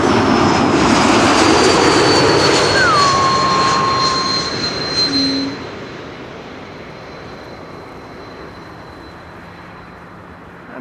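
An Embraer E195-E2 jet airliner at Amsterdam Schiphol gives a loud, close roar that fades steadily into a distant rumble, with a high whine running through the sound.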